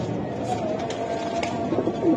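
Giribaj pigeons, including a female, give low, soft, rolling coos at close range, with faint murmuring voices underneath.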